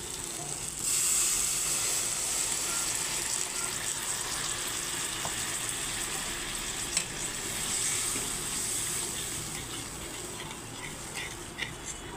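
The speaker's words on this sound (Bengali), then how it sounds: "এখন আমি একটু জল দিয়ে দেবো আবার।" Water splashed into onions frying in oil in a pan for a Bengali rui fish bhuna, giving a steady close hiss and crackling sizzle that carries on without a break.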